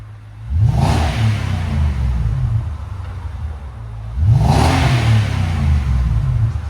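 A 2018 Nissan Armada 5.6L V8 with a Flowmaster Super 10 exhaust revs twice, each throttle blip swelling into a loud, deep roar before settling back to a rumbling idle, heard close up.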